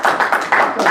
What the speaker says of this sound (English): I think we should give him a clap